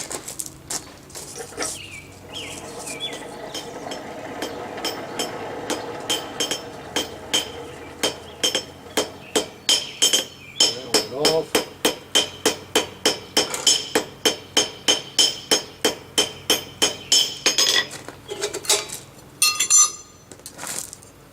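Repeated hammer blows on hot steel as a fork tine forged from a rusty nail is bent aside, a steady run of sharp metallic strikes with ringing clinks, close and loud, pausing briefly near the end.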